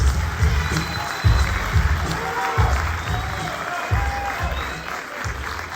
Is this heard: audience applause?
yes